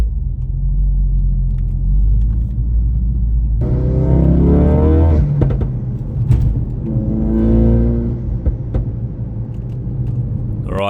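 A Ford Focus RS engine heard on track during a race warm-up lap, a loud low idle rumble that breaks into rising revving pulls under acceleration, close to the car with no talk.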